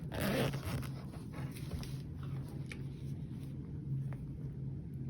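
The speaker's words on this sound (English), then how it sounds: "I can zip and unzip my bag." Zipper on a tasselled bag being zipped and unzipped, a quiet, close scratchy rasp with a stronger pull at the start, then softer continuous zipping.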